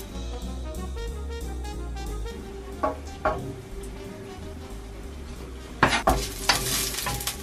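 Ginger slices and halved garlic cloves sizzle steadily in hot oil while cooking vegan tonkotsu ramen, with scattered clatters of utensils stirring the pan, louder toward the end.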